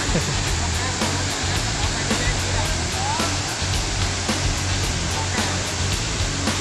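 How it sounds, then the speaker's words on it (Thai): Steady, loud rushing water pours continuously, like a nearby waterfall, filling the whole scene with broad roaring noise. "ก็คือน้ำตก"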